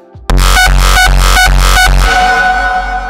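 A synthesized Zaag kick made in the Vital plugin with reverb on, hammering as five heavy, booming repeated hits in quick rhythm, then a wide reverberant tail ringing out after the last one.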